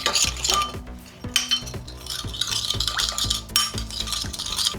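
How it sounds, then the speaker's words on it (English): No-cook food being mixed in a bowl, with close clinking and scraping of a utensil against the dish in quick, irregular strokes and wet stirring sounds, no talk. "Give it a good mix."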